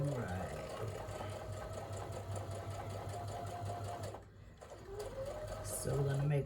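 A sewing machine piecing quilt patches runs in a continuous, close mechanical whir with a rapid stitching rhythm, briefly pausing near the end before starting again, while someone talks over it.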